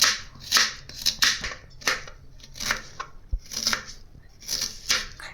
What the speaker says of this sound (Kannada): ಇದನ್ನು ಸಣ್ಣಗೆ ಹೆಚ್ಕೊತಾ ಇದ್ದೀನಿ ಈ ರೀತಿ ಎಲ್ಲ ಸಣ್ಣಗೆ ಹೆಚ್ಚಿಟ್ಕೊತಾ ಇದ್ದೀನಿ